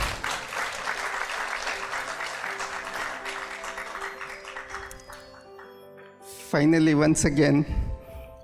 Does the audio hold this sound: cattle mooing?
no